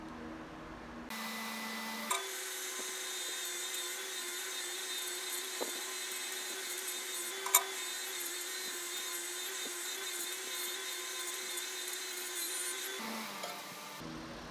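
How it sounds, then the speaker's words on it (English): A wire wheel scrubs rust off Jeep XJ frame parts. It sets up a steady, loud whirring grind that runs unbroken for about eleven seconds, with a few sharp ticks of contact along the way, then stops. "we're gonna clean these guys up with the wire wheel here to make this a bit more user friendly"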